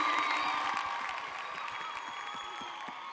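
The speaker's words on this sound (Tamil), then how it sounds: "அவங்களுக்காக ஒரு மிகப்பெரிய கைத்தட்டல் கொடுத்துருங்க" Studio audience at a Tamil singing-competition grand finale gives steady, dense applause for veena and mridangam artists, sustained claps with faint cheering that slowly tapers off, no one speaking.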